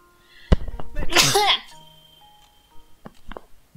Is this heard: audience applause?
no